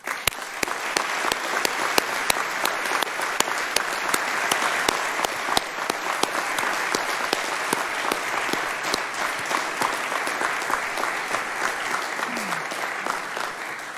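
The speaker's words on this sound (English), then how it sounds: "thanking them with a resounding round of applause" A large audience at a college ringing-in ceremony for an entering class gives a long, sustained round of applause, dense continuous clapping with sharp individual claps standing out, lasting the whole stretch.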